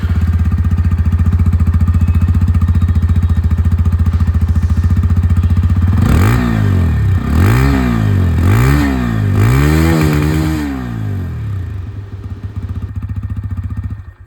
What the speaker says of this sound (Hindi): बाइक की एग्जॉस्ट साउंड है वो सबसे पहले सुना दो।